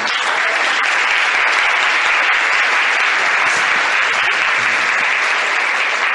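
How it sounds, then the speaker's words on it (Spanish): Dense, loud audience applause fills the whole stretch, a steady wash of many hands clapping with no pause or letup. "Yo creo que Sandra se merece un súper aplauso."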